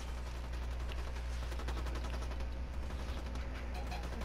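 Rapid bursts of gunfire in Ghost Recon Wildlands crackle continuously over a steady low rumble, dense and evenly loud throughout.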